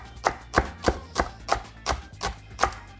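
A knife slices through spring onions on a chopping board, eight or nine evenly spaced crisp cuts with firm knocks on the board, close and clear with no talking.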